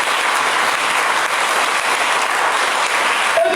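A church congregation applauds to acclaim the Lord during a Sunday service, with dense, steady clapping sustained loud and close throughout, no voices rising above it.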